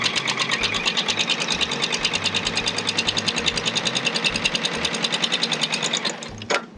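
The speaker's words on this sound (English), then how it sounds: "And then I'm just going to sew a straight line," A sewing machine runs a straight seam while piecing quilt triangles, a rapid, even mechanical patter of stitches heard up close and alone, stopping abruptly near the end.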